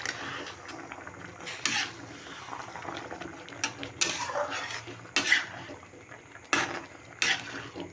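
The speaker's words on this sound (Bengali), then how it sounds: "নাড়াচাড়া করে জলটা সব জায়গায় মিশিয়ে দিচ্ছি মটরটার মধ্যে।" Boiled peas and their cooking water being stirred in a pot, with repeated scraping and clinks of a utensil against the metal and a low bubbling underneath, no one speaking.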